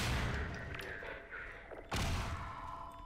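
Grenade explosions in Half-Life 2 arrive as muffled booms and thuds: a softer burst early on, then a sharp, heavier blast near the end that rings out at moderate volume.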